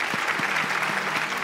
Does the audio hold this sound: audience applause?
yes